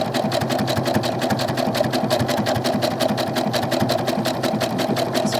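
Sewing machine stitching doll clothes with a rapid, even mechanical clatter, running steadily and close throughout with no pauses.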